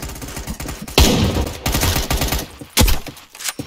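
Several bursts of game gunfire from a newly added gun in the shooter Caliber, sharp loud cracks with rapid follow-up shots, one heavy blast near the start and another near the end, close and alone.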